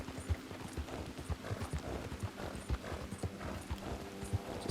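Steady rhythmic hoofbeats of a horse being ridden in Red Dead Redemption 2, a clear clip-clop trotting cadence at moderate distance over faint ambient background.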